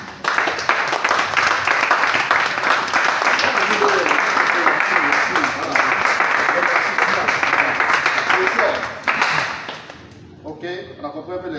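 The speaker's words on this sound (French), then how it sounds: "Applaudissons JB." Loud, sustained applause from an audience at a classroom session, a dense wash of clapping holding steady for about nine seconds before it drops away, with a few scattered claps and voices left at the end.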